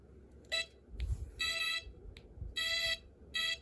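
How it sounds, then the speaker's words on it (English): Snap Circuits blinker beeper circuit: a small speaker gives harsh, buzzy electronic beeps in short bursts, several in an uneven on-off rhythm in time with a flashing LED, close and fairly loud, with faint low bumps between them. "And the speaker makes noise as the LED flashes."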